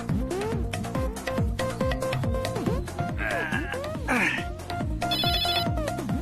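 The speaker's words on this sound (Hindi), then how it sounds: "अरे भैया इनका तो फोन बज रहा" A phone rings with a repeating electronic ringtone melody, fairly close, with voices faintly in the background.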